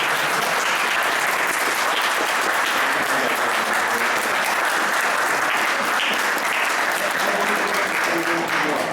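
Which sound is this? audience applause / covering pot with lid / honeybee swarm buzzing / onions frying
audience applause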